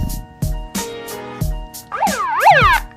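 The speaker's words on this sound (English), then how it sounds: "Officially too much siren on the show today" A siren sound effect wails in short bursts, first rhythmic thumping hits and stabs, then rising and falling sweeping tones that swoop up and down loudly near the end, with no one speaking.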